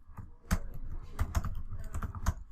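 Rapid keystrokes on a computer keyboard as a Linux install command is entered, an irregular burst of close, crisp clicks and a few heavier key thumps, with no voice over them.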